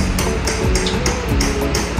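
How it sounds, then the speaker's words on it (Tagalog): A hammer strikes a stuck, hard-to-remove bolt on an automatic washing machine, giving several sharp metallic taps in an uneven rhythm, close and loud over a clattering background. "Gumamit na ako dito ng martilyo"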